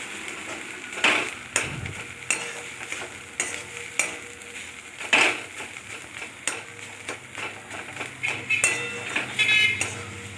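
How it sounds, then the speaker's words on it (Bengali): Grated carrot mixed with cashew paste is stirred in a sizzling pan, with repeated scraping strokes of a spatula against the metal over a soft frying hiss. "এপিট ওপিট করে ভালো করে নাড়াচাড়া করতে হবে, গাজরটাকে কাজুর সঙ্গে, কাজু বাটার সঙ্গে মিশিয়ে দিতে হবে।"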